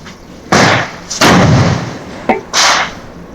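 Atom bomb firecrackers bursting outdoors during Diwali in Tamil Nadu, three loud sharp blasts in quick succession, each trailing off into a short rumbling echo, close to the listener.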